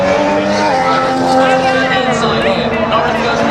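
A Formula 1 car roars past at the Austin Grand Prix, a loud high engine whine rising and falling as it passes, with a voice speaking over the noise.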